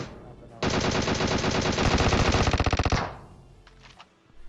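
Sustained automatic gunfire from PUBG Mobile, a loud rapid burst of shots running about two and a half seconds before cutting off, followed by a few faint pops.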